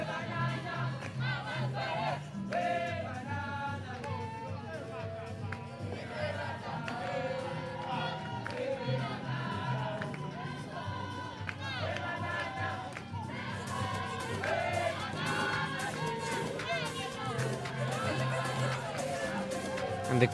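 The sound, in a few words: crowd singing and cheering at youth volleyball game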